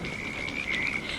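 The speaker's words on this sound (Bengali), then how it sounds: "সারাদিন ব্যাঙের ডাক আর বৃষ্টির শব্দ" Frogs croaking in rain-filled monsoon canals and marshes: a dense, continuous chorus of rapid, buzzing croaks, fairly near and steady, with no voices.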